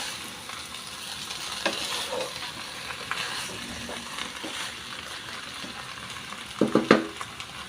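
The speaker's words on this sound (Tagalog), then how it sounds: "So haluin lang natin." Salmon head sinigang gets stirred in a pot, a soft steady simmer and bubbling with a few faint utensil scrapes and a short clatter of clinks near the end, no voices.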